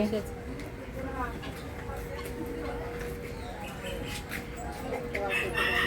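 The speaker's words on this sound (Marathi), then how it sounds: "कोंबड्यांचं आरवणं पक्ष्यांचे वेगळे वेगळे आवाज हे इथलं खास वैशिष्ट्य आहे" Roosters crowing and hens clucking at a guava orchard farm: repeated crows and clucks rise over a busy background, with people talking nearby.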